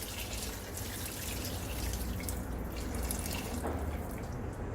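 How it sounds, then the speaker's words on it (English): Hot water pours into a pot of oxtails with thyme and rosemary, a steady, close rushing splash that runs without a break for several seconds, with no one speaking. "Let's add some hot water."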